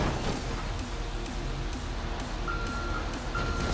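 Reversing beeps from a dump truck full of trash backing into a parking spot at the docks in GTA 5, a loud steady series of evenly spaced electronic beeps over engine rumble.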